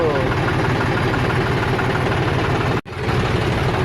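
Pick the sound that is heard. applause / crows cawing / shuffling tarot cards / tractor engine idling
tractor engine idling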